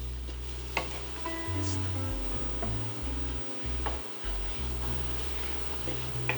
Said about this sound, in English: Stir these to toast the spices.